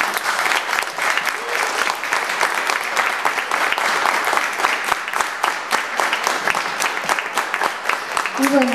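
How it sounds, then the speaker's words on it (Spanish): A school audience gives loud, sustained applause, a dense crowd of hands clapping continuously and close, with a faint voice surfacing near the end. "le damos un fuerte aplauso a Vanina."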